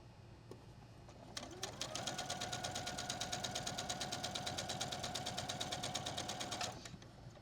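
Sewing machine stitching a quilt block in one steady, rapid run of evenly spaced needle strokes lasting about five seconds, close and moderately loud, with soft handling sounds before it starts.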